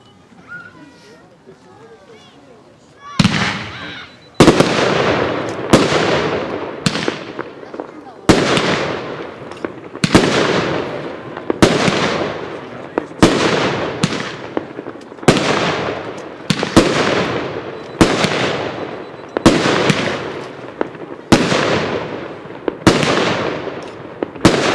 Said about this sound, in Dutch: Hoort u de harde klap uit de Big Rose.